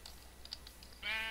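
Sheep bleating in the Minecraft video game, a short quiet bleat near the end following soft clicking keyboard-like taps, with no talking.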